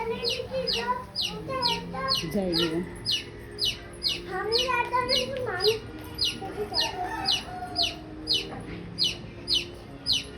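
Hen clucking repeatedly in a rhythmic run at a home enclosure closed off to keep the chicken in, loud and near, with people talking over parts of it.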